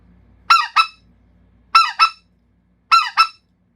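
A specklebelly goose call blown in crisp two-note honks, three pairs spaced evenly with short silences between, close and clear.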